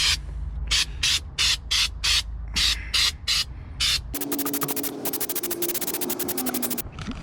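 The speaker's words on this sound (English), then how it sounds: "I just wanted to spray it down a little bit to get it protected" Aerosol spray paint applied to a Jeep Wrangler YJ center console, beginning with about ten short, evenly spaced bursts and then turning into one long, steady, loud hiss close by.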